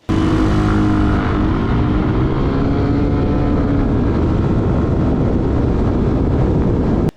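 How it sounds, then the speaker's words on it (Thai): A GPX Drone motorcycle engine drones steadily and loudly throughout with constant wind-like rushing noise, the pitch rising slightly early on, close to the microphone. "เสียงเครื่องยนต์เนี่ยมันจะดังอื้อขึ้นมาหน่อย"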